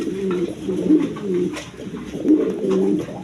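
Pigeons of various breeds at a pigeon sale coo nearby in repeated soft, throaty rolling calls, several overlapping phrases in a steady rhythm.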